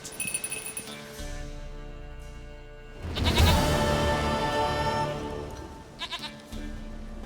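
A goat in The Witcher 3 bleats loudly in one drawn-out, wavering cry at close range over a quiet game ambience with faint clinks.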